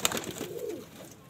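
A brief murmuring coo comes from a khaira Madrasi pigeon at close range, following a small clatter at the start and fading out within about a second.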